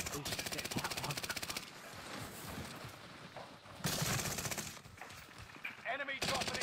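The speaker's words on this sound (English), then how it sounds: "Taking fire!" Rapid automatic gunfire in the video game Warzone, loud bursts of machine-gun fire with a short lull and further volleys, mixed with game sounds and voices talking over it.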